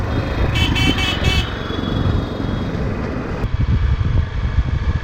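A Hero XPulse 200 motorcycle being ridden, a loud, steady close engine drone with rushing road and wind noise and a few short horn-like toots early on.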